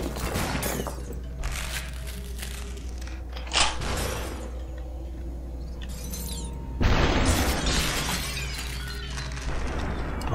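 Glass bursts apart in the video game Superhot, with repeated crashing, splintering shatters, a sharp one early and a heavier burst later, over a steady low rumble and scattered impact noises.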